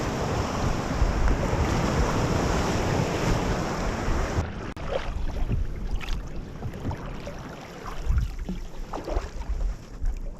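Waves wash and slosh against the shoreline cliffs of Lake Superior, heard from a kayak as a steady close rushing of water with some wind noise and a few sharper splashes.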